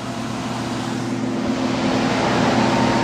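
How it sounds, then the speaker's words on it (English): A small water pump runs in a bucket of soapy water on a foam machine prototype, giving a steady, loud mechanical hum with a continuous watery wash that swells slightly toward the end. "Vic, hit the pump."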